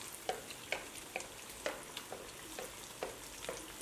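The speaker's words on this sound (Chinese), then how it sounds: "就放入鸡腿炸制。" Chicken drumsticks deep fry in hot oil for crispy double-coated fried chicken, a quiet steady sizzle broken by irregular soft pops and crackles spaced every half second or so.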